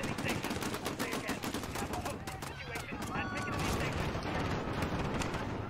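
Rapid gunfire from Call of Duty Modern Warfare, with dense bursts of automatic shots crackling continuously over the game's background noise and a voice talking in between.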